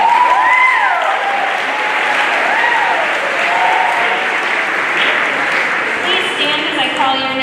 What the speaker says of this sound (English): we should just give them a round of applause